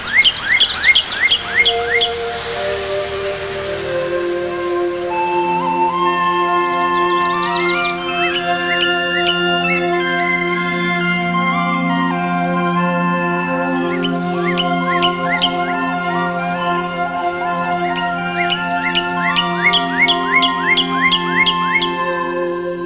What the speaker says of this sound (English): We call the bird the Northern Cardinal.